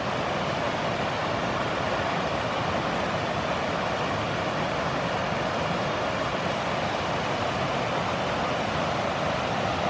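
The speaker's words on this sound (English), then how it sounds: "It's a nice little waterfall down here." Small waterfall on Shingle Creek, a shaded backcountry river, roaring in a steady, dense rush of falling water that holds loud and unbroken throughout, with no voices.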